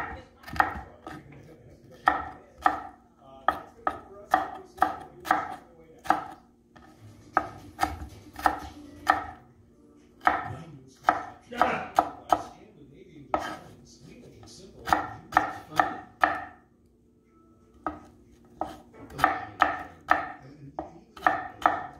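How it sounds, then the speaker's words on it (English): Green pepper, celery and carrot being chopped small on a board, with rapid bursts of crisp knife strikes separated by short pauses, close and clear, plus a low steady hum underneath. "chop the green pepper, celery, and carrot small like this."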